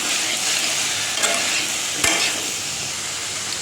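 Ground turmeric, cumin and chili powder being stirred through hot oil in a frying pan, a steady close sizzle with a couple of faint spatula scrapes, no voices.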